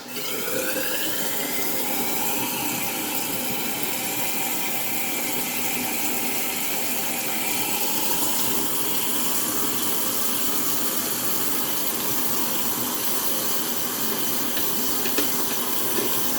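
A dual flush toilet tank refills with water after a flush adjustment, a continuous loud hissing rush of water through the fill valve that holds steady from start to finish, with no talking.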